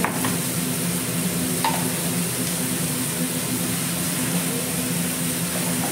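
Tomatoes and salt cooking in a hot pan, giving a steady, even sizzle with a faint hum underneath, close and continuous, with no talking.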